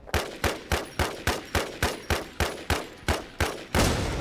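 An IMI TAR-21 rifle firing in Infestation: about a dozen evenly spaced, punchy shots in quick rhythm, loud and close, each one decaying briefly before the next, followed by a burst of noise at the end.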